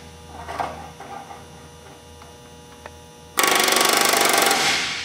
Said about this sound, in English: Rivet until the dimple is formed.